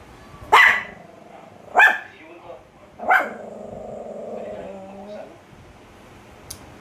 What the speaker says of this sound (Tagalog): Akala mo kalaking tao kung tumahol. Kalaking aso.